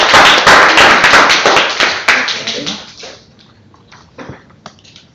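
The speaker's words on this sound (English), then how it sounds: "Give a round of applause." Applause from a club meeting audience, dense clapping loud at first and then thinning into scattered claps that fade over a few seconds.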